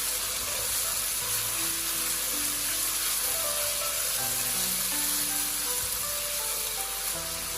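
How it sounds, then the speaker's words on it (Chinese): Sliced pork stir-fried over high heat in hot oil in a wok, a steady loud sizzling hiss with faint scraping and clinking underneath. "先把肉片倒入锅中，开大火快速的翻炒"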